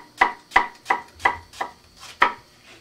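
A knife chops through an onion on a cutting board, seven crisp, evenly spaced knocks in a steady rhythm, close and clear with quiet between strokes.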